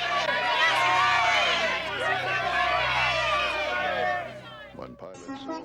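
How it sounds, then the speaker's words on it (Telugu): A film crowd shouting in a loud, continuous clamor of many overlapping voices at the trial of Jesus before Pilate, sustained for several seconds before dropping away as a single voice breaks through near the end. "వారు సిలువ వేయుమని మరి ఎక్కువగా కేకలు వేసిరి"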